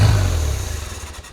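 A canoe hot rod's engine catches at the touch of the key and runs with a loud, low rumble right at the start, then settles into a steady idle over about a second.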